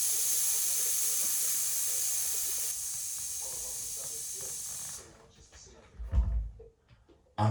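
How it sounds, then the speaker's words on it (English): Air hisses steadily out of a bicycle tyre's valve as it is let down, a loud continuous rush that cuts off abruptly, followed by a few faint clicks and handling knocks. "we're going to let the tyre down because we need to get the inner tube out."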